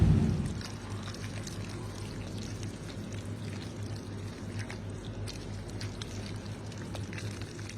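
Water is poured into a pan of yellow cherry tomatoes, a steady splashing trickle heard close and alone for several seconds.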